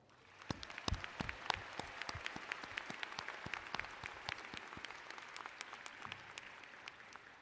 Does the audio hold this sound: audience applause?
yes